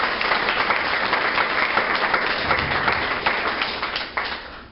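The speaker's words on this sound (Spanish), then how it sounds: "un aplauso a Él" Church congregation breaks into sustained applause, a dense, even wash of many hands clapping throughout before tapering slightly near the end.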